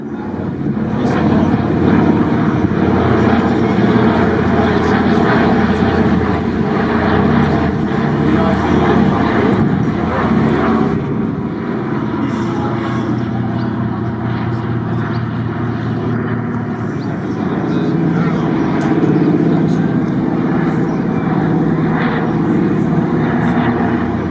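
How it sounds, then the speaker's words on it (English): Original C-47 Skytrain aircraft at a D-Day 80th anniversary event in Normandy, their engines giving a continuous heavy droning roar that stays loud and steady throughout, with crowd noise and possible voices mixed in. "You won't soon forget the roar of the engines of the so-called Skytrains."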